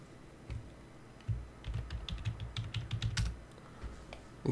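Typing on a computer keyboard to enter commands into a game console, a quick close run of light clicking keystrokes with no voices.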